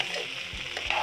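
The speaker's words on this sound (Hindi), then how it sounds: "अब ये घी में सारा चावल डाल के मैंने इसको थोड़ा सा भून लिया है।" Rice fries in ghee for chicken biryani with a close, steady sizzle and a couple of soft scraping stirs over one short moment.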